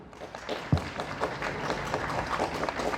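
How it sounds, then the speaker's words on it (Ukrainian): Applause at a winter championship award ceremony as a placing team is called up, a crowd clapping steadily with a few louder close claps and thumps, moderately loud and continuous, no voices. "так, оплески."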